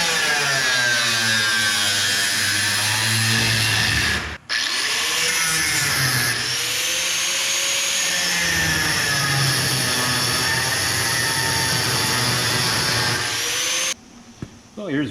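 A loud, whining power tool cuts out rusted metal panel on a 1952 Chevrolet, a continuous high grinding drone that briefly stops and restarts before cutting off near the end.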